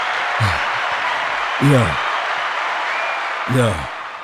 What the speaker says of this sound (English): Let's give a round of applause to those boys, man.